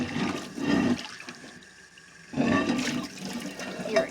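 Water sloshes and swirls in a hot cast iron pan in two bursts with a quiet pause between, close and splashy, no talking.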